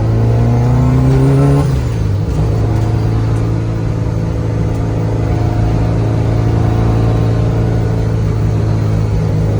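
A gutted, caged, built Subaru Impreza widebody revs hard, its pitch falling as the revs drop, then settles into a steady, loud engine drone with a whining, gear-like tone from the straight-cut gears running throughout.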